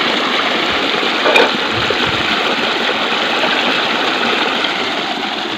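Irrigation water gushes steadily into a sorghum field, a loud, close, continuous rushing flow with one brief knock near the start and no talking.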